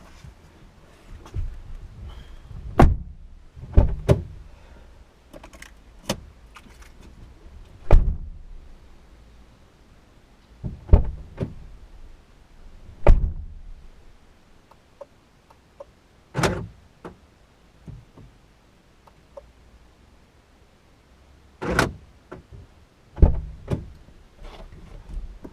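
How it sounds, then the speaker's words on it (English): Someone gets out of a 1995 BMW E36 318i and removes the keys, making scattered close clicks, knocks and thumps of door and interior handling at irregular intervals over a quiet background. "I'll get out of the car, take the keys out of ignition"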